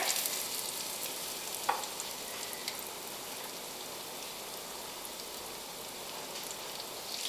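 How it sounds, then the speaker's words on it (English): Red snapper fillets sizzling in hot oil, a steady crackling hiss throughout with a brief clink near the start. "Got a good little sizzle going on them there."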